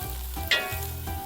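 Ground veggie meat fries in a pan for a vegan pasta bolognese, giving a steady close sizzle with a brief louder scrape or stir in the middle.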